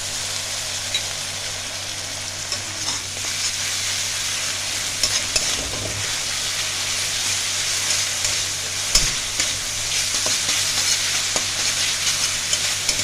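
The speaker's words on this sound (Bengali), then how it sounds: "পেঁয়াজটা একটু ভেজে নেব হালকা ব্রাউন করে।" Onions frying in a pan until lightly browned for a Bengali duck egg curry, a steady dense sizzle with occasional stirring scrapes running throughout, close and continuous.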